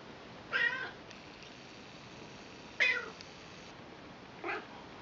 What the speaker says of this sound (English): The cat's going crazy wanting to look out of the window